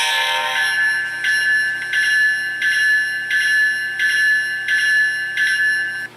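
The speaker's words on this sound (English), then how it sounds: "when you do trigger the horn and accidentally bump the E-bell, you'll get this feature" Electronic E-bell from a sound decoder in an HO scale ET44 Gevo model locomotive, ringing in a steady repeating pattern of about seven evenly spaced metallic dings, loud and close, with a doubled bell layered at the start.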